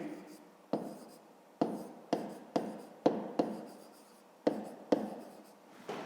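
A pen writes by hand in a notebook while math is worked out: short scratchy strokes come in bursts, about eight distinct scribbles in quick irregular rhythm, close and clear.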